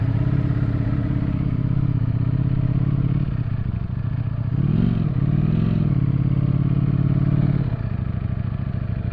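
A wrecked Ducati Streetfighter V4S being ridden, its V4 engine giving a loud, steady drone with rises and dips in pitch as it shifts and revs, close up with no talking.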